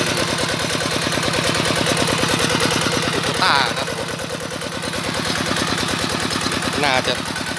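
A farm tractor engine drives a water pump for draining a pond to catch fish. It chugs steadily and loudly throughout, with a rough, rapid rhythmic knock and brief higher clattering sounds around the middle and near the end.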